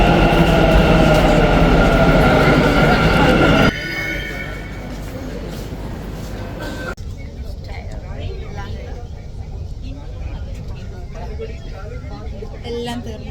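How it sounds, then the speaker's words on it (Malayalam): Bangalore underground metro train, loud and steady for the first few seconds with bright wheel squeal and rumble, then quieter continuous carriage noise and rumble as the ride goes on, no talking. "ഇവിടുത്തെ മെട്രോ അടിയിലാണ് ഗൈസ്."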